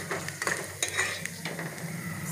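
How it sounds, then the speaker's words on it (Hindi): Lentils (dal) lightly roasting in hot oil in a pan for a savoury Jain fried porridge snack, a soft continuous sizzle with scraping stirs throughout, close and alone. "हम इसमें सबसे पहले हमारी दाल डालेंगे। इसे हल्का सा भून लेंगे।"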